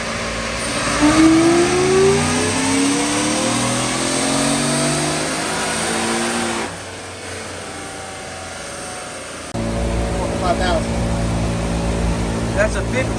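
A Whipple-supercharged 2021 Ford F-150 with a 50-state-legal calibration on a chassis dyno, its engine revving up and climbing in pitch, then dropping off and settling to idle before rising again, with people talking over it.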